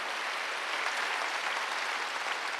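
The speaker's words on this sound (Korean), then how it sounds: "박수 한번 하세요" A congregation claps together during a Sunday worship service at a Korean church: steady, moderately loud, dense applause filling the whole short moment, with no voices over it.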